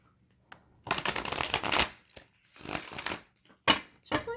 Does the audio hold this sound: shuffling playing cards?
yes